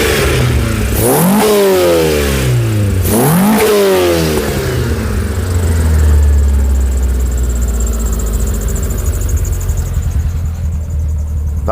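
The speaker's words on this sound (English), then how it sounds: "That's actually revving properly now." A Skoda 120 with a 16V engine, freshly fitted with changed cams, is revved hard twice in quick succession, each rising sharply then dropping back, before settling into a steady, loud idle close by.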